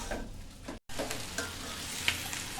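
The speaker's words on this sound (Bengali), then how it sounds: "আপনারা খেয়াল করুন আমি ভাজিটা কিভাবে করছি, এইভাবে পুরো ভাজিটা করতে হবে।" Bitter gourd and shrimp stir-frying in a pan, a steady close sizzle with scraping spatula strokes and a brief dropout partway through, no voices.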